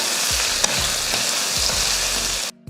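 Okra stir-fries in a hot pan, a constant bright sizzle punctuated by repeated scraping strokes of a stirring spoon, close and fairly loud with no voices.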